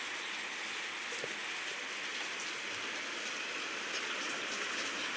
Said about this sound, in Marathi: चला मस्त पाऊस एन्जॉय करूया आपण